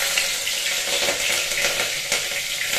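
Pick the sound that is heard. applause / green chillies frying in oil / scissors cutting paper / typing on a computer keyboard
green chillies frying in oil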